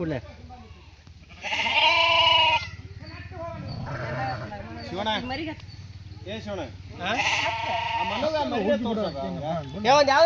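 Sheep bleat repeatedly and loudly up close at a Diwali sheep worship ritual, the long wavering calls coming in several bursts, with people talking in the background throughout.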